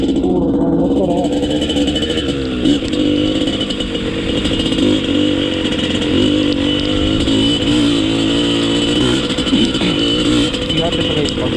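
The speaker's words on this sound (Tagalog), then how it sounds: "Puro ng motor oh." Dirt bike engines run on a mountain trail on Mt. Naupa as a storm arrives, a steady, close, droning motor noise filling the whole stretch, with voices mixed in.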